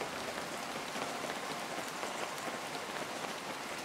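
Steady, dense rain falls throughout in the video game Feather, a close, even hiss of drops pattering on surfaces with no breaks or other sounds.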